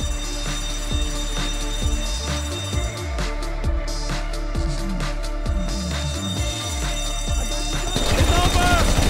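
A repeating alarm wails during a mission in GTA Online, its rising tone cycling steadily over heavy game action with bursts of gunfire and loud ambient noise throughout.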